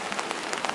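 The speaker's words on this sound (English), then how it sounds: "And it's a rainy day." Steady rain patters on a surface on a rainy morning, a dense continuous hiss with scattered droplet taps, close and even throughout, with no voices.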